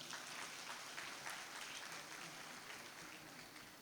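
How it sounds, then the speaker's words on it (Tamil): Steady applause from an audience at a Rotary Club debate event in Madras, a dense continuous patter of many hands throughout, fairly faint and even with no talk over it. "நீங்கள் அவருக்கு ஒரு நல்ல கைதட்டு கொடுக்கலாம்."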